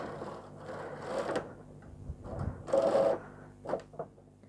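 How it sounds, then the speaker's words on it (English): A domestic knitting machine carriage slides across a row threaded with ravel cord, giving a few mechanical whirring, clattering passes with short pauses and clicks between them, fairly close and alone without talk. "Threading the carriage, we're going to knit across"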